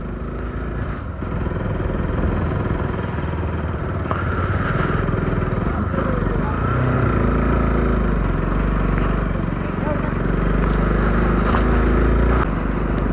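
A motorcycle runs steadily while being ridden uphill toward the Swayambhunath temple in Kathmandu, its loud continuous engine drone and rumble dominating throughout with slight shifts in pitch.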